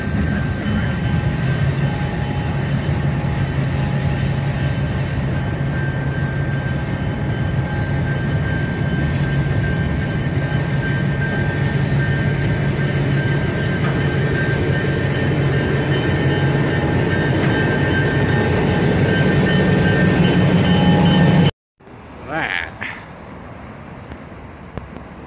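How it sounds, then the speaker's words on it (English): A southbound grain train rolls past, a loud sustained rumble of railcars with steady rail noise that continues for about twenty seconds, then cuts off abruptly to quieter outdoor sound. "this is a southbound grain train"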